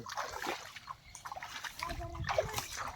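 Flood water from a rising river trickles and splashes through a mango orchard in a soft, uneven stream, fairly close but quiet, with faint voices in the background.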